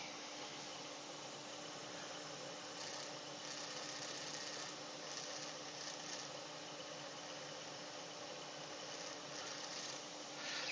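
A wood lathe turns a yew spindle with a steady, close mechanical whir and broadband rushing hum that holds constant, without pause, for the whole stretch.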